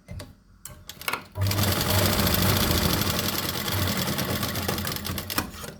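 A sewing machine stitches fabric for a hair band, opening with a few short stops and starts, then running in a fast, continuous mechanical chatter for several seconds at close range.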